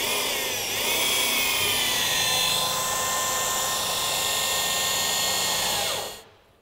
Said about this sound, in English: as the lift goes up, we've got rollers on the front